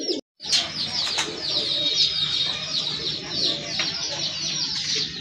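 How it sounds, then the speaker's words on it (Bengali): Pigeons and other fowl kept together, heard as continuous close cooing and chattering with a brief rustle of movement near the start and no voices. "মাশাল্লাহ আরেক জোড়া কবুতর,"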